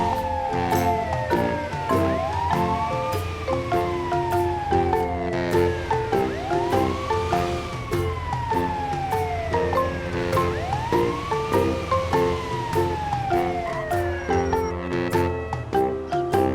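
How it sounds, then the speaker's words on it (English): An ambulance siren wailing in repeated rising and falling sweeps, loud and close, running continuously over a backing of children's music. "ambulance"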